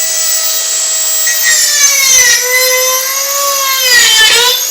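A Dremel rotary tool cuts into a deer antler knife with a loud, shrill, whining grind whose pitch dips and rises as pressure on the cut changes, close and continuous throughout.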